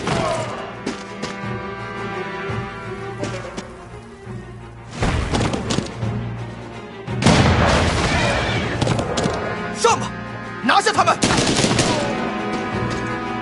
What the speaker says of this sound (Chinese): 集中火力，射击！